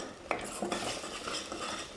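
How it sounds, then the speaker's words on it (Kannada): About a quarter spoon of turmeric is stirred in hot oil in a pan for a green chilli chicken chops dish, with a utensil scraping and clinking against the pan over a low sizzle, close and continuous. "ಇದು ಹಸಿ ವಾಸನೆ ಹೋಗೋವರೆಗೂ ನಾವು ಫ್ರೈ ಮಾಡ್ಕೋಬೇಕು ಎಣ್ಣೆಯಲ್ಲಿ"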